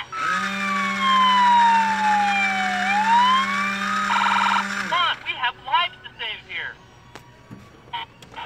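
A Road Rippers toy ambulance sounds its battery-powered electronic siren, a loud wailing tone sweeping down and back up, followed by short chirps and beeps from the toy.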